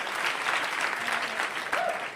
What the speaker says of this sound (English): Keep the applause to yourself.